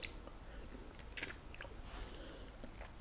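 Someone chews a mouthful of beans in lemony broth with creme fraiche, carrots and celery, making soft, close, wet chewing sounds with a few small crunchy bites over a quiet background.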